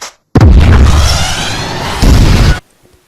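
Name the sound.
explosion sound effect in a student film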